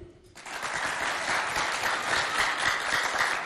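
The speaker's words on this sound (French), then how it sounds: "1 point pour Aurélien, on l'applaudit." A school audience at a hoop-throwing contest bursts into sustained applause after a point is scored, dense clapping filling the space after a brief quiet start.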